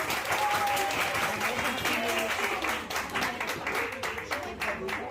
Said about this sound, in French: En premier lieu, je voudrais que vous applaudissiez très fort Patrick.